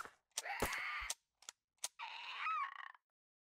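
A gun fires at small dinosaurs in a park-building video game. Several short, sharp cracks are mixed with brief tonal squawk-like bursts, all quiet and close.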